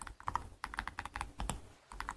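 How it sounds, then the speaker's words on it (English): Rapid clicking of keys on a computer keyboard, close and fairly quiet, steady typing with a brief pause near the end. "keyboard sounds for IU"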